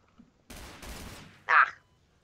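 Gunfire in the Garry's Mod video game: a short burst of rapid shots, loud and close, followed by one sharper report, with a brief exchange of speech before it.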